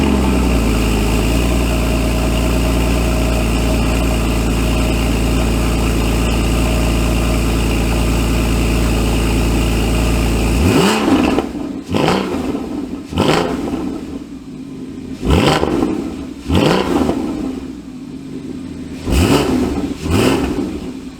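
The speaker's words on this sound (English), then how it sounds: "Now I'm going to go and test the exhaust and see if it's working." A Porsche with the sports exhaust (PSE) drones at steady idle for about ten seconds, then revs sharply in a series of five or six short blips, each rising and falling back, loud and close.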